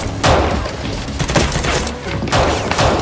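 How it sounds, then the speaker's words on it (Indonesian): A burst of loud, dense gunfire with sharp cracks and booms, several volleys in close succession filling the whole clip. "Suara tembakan tersebut spontan memancing kecurigaan Miro termasuk dua asistennya ini."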